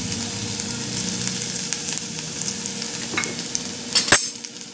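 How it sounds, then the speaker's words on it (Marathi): Finely chopped ginger and garlic sizzle and fry in hot oil for a Manchurian gravy. A steady, close crackling hiss runs throughout, broken by a few sharper stirring clinks near the end, with no voice over it. "तेलात आपण अद्रक आणि लसूण हे बारीक चिरून घेतलंय ते आपण तेलावर टाकतो"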